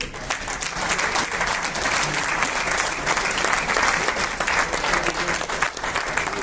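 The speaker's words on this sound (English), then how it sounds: "Please keep clapping, keep clapping." Sustained audience applause at the close of an anniversary lecture, a steady dense wash of many hands clapping from start to finish with no talking.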